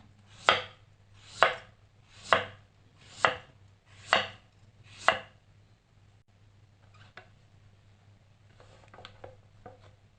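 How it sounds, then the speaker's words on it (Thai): A knife chops pumpkin into small pieces on a board for a pumpkin custard recipe, six sharp, evenly spaced strokes followed by quieter, scattered knocks. "จากนั้นเราก็นำมาหั่นให้เป็นชิ้นเล็กๆอีกทีนึงค่ะ"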